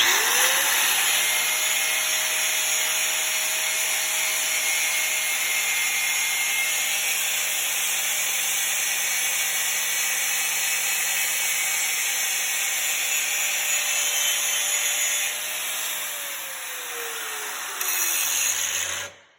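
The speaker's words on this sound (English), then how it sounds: "So I will just grind a little." An angle grinder runs steadily on metal, grinding a patch clean for a welding ground clamp; the continuous whine stays loud and close for about fifteen seconds, then drops away as the tool winds down.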